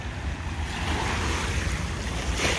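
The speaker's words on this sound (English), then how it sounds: "So this is the Mississippi River." Water moving on the Mississippi River near an old bridge, a soft continuous wash with wind buffeting the microphone, fairly quiet and steady, no voices.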